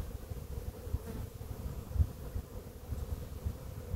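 Honeybees from an early swarm crawl over hive frames, a close, low buzzing hum with a few louder passing bursts, steady and alone without talk.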